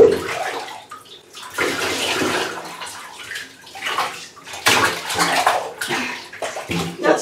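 Water sloshes and splashes steadily in a bathtub as pet ferrets are bathed, in bursts of varying loudness, with a person's soothing voice faintly underneath at times.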